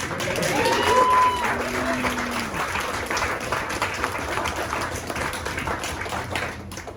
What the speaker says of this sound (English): I encourage you to applaud if you agree